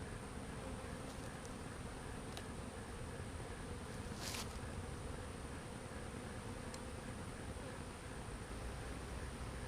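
A large honeybee swarm, just scooped and dumped out, fans with a dense, continuous hum at close range, steady throughout with no talking.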